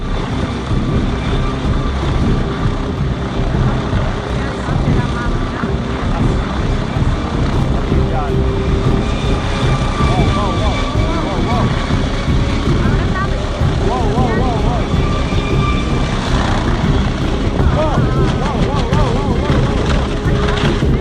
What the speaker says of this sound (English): One passenger was boarding when the aircraft completely lost control.